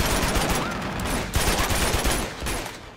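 Gunfire in Uncharted 2 Remastered comes as dense, rapid, overlapping bursts of shots, loud and close, sustained for about three seconds without a break.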